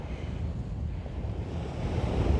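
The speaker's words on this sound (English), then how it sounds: "The breeze coming off the ocean right now is very welcome." Ocean surf washes onto a beach at Costa Mujeres with a steady breeze buffeting the microphone, a continuous low rumbling roar with no voices.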